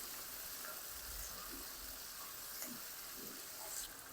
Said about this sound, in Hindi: लहसुन अदरक और हरी मिर्च शामिल करने के बाद मज़ीद 1 मिनट तक फ्राई कर लिया है।